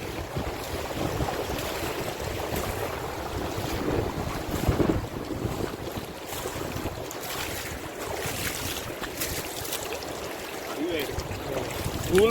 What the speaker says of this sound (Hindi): अभी हवा भी इतनी तेज चल रही है, काफ़ी तेज हवा चल रही है